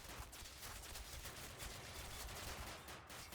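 Gunfire in the World War II shooter Call of Duty, a dense, continuous crackle of rapid shots and bursts that runs without pause, fairly faint and distant-sounding, no talk.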